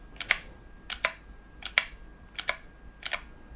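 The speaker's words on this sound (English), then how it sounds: "you can use the arrow keys on the front to cycle through the available games" Five short double clicks sound at a steady pace as the arrow keys on the front of a Divoom Ditoo retro pixel-art Bluetooth speaker are pressed, crisp and close against a quiet room.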